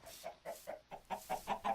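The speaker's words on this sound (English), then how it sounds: "It's very loud in here with the chickens." Chickens clucking in the video game Minecraft, a quick run of about eight short, evenly spaced clucks, fairly quiet and alone.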